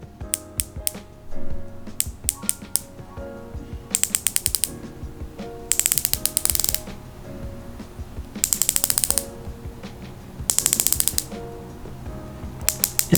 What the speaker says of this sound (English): the Tudor has a 60 click bezel action.